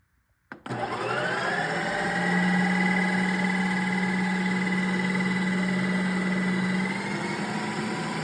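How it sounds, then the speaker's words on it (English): A Ninja Creami machine kicks on abruptly and keeps up a loud, steady motorized whir with a high whine as it spins keto ice cream, close by with no voices. "put the cap on and put it in the Ninja Creamy on full"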